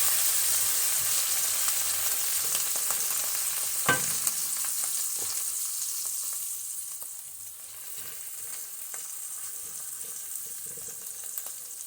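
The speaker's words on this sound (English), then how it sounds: "So I'll fry that down." Collard greens frying in a pan make a steady hissing sizzle, close and even, with one sharp clack near the start and a slight softening partway through. No one speaks.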